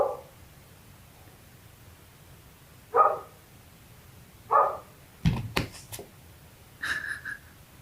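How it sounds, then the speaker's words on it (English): A neighbor's dog barks in the background, giving four or five separate muffled woofs spaced a second or two apart in a quiet room. "I'm sorry about the dog, but that's my neighbors."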